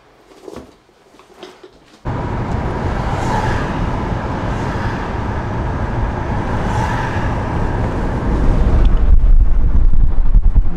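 A car drives through traffic with steady broadband road and wind rumble that holds loud and even for most of the stretch, swelling slightly toward the end, with no talk.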